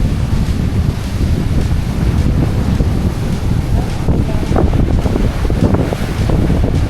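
Ocean waves wash steadily against a Hawaii shore, a constant loud roar of surf mixed with heavy wind buffeting the microphone, no voices heard.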